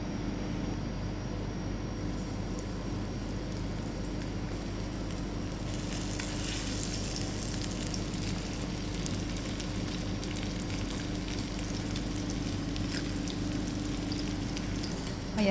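Fish dredged in flour frying in cooking oil in a pan, a constant close crackling sizzle running steadily without pause.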